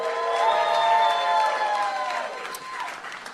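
Live podcast audience at a festival recording applauding and cheering, a dense roar of clapping with sustained whoops and shouts rising above it, loud and close, slowly fading toward the end.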